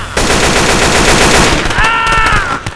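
Rapid automatic gunfire from a shooter video game rattles on continuously at close range, loud and dense, with a bright electronic tone sweeping in near the end.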